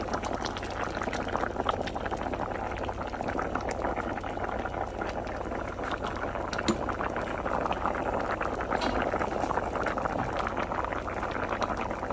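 A pot of pinto beans with added water and seasoning bubbles at a steady rolling boil, with continuous close gurgling and popping at low volume.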